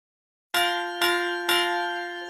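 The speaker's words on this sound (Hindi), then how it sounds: "सुनो घंटी बजी" A school bell is struck three times in quick succession, each loud metallic clang ringing on with a bright, sustained tone that overlaps the next stroke and fades slowly after the last.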